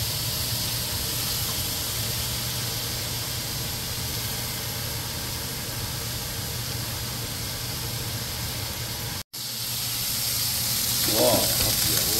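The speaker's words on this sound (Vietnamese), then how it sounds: "Wow, hấp dẫn, hết chiên giòn." Deer meat frying in hot oil, a steady broadband sizzle running loud and continuous throughout, briefly cutting out once before resuming with faint background noise.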